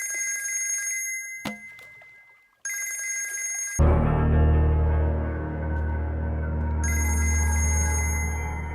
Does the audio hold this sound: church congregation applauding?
no